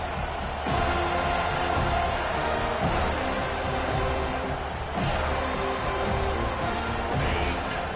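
Stadium crowd in a college football video game, a steady loud roar of cheering fans that swells in waves with thumping accents, continuous throughout.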